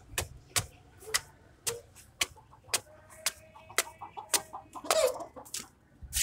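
A sick hen clucks softly in short, irregular bursts, with sharp repeated clicks or taps sounding at a steady pace alongside.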